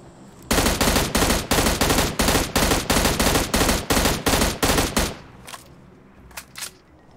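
A PUBG Mobile gun fires about fourteen loud, evenly spaced shots in a steady rhythm, then stops, leaving a quiet tail with a couple of faint clicks.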